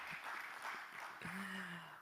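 Applause from a panel-discussion audience at a Nairobi tech week event, a steady wash of clapping in a hall that fades as a single voice-like tone rises near the end.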